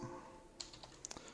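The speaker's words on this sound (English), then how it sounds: "Just tried to load the command prompt by typing command" Someone types the word command into a command prompt on a computer keyboard: a quick burst of about half a dozen light, close key clicks over a faint room hum, with no talk.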